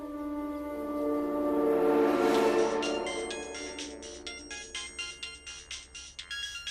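A phone ringtone plays a rising electronic melody, then settles into a repeating pattern of short chiming tones.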